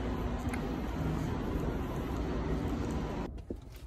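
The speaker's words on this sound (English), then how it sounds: "So basically right now we're in the car." Broadband rumble of road and engine noise fills the cabin of a moving car, steady and close for a few seconds before it drops away abruptly near the end.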